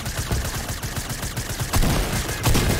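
Rapid gunfire in the Fortnite video game, dense bursts of shots firing in a quick rhythm with two louder bursts near the end; no talk is heard.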